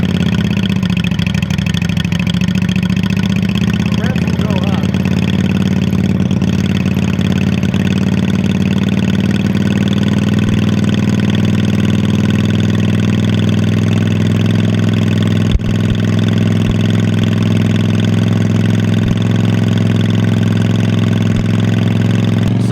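Debaffled 2007 Honda Shadow VLX600 motorcycle, cold with the choke on, idling from about a block away; a continuous, loud, low rumbling drone holds steady throughout, with no voices over it.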